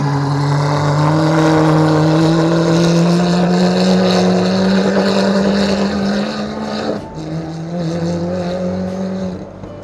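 A 1989 Toyota Corolla AE92 engine struggling to run, a loud sustained droning hum that wavers in pitch, dips briefly near the end, then carries on, with no talk.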